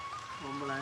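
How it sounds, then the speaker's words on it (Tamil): Rain pours steadily, a continuous broad hiss of drops on surfaces, while a person's voice carries over it. "பார்ப்போம் என்னடாப்பா இந்த மழை"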